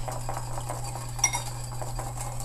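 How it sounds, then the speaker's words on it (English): A salad dressing seasoned with salt and pepper is whisked in a bowl, giving a quick, steady run of light clinks and scrapes over a low constant hum, with one brighter clink midway. "One last whisk."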